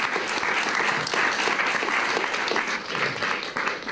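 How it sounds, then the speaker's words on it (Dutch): Warm applause from a seated evening audience honouring speakers at a discussion event, a loud, steady wash of many hands clapping close and alone for a few seconds. "Dus ik zou heel graag een warm applaus voor onze sprekers willen vanavond."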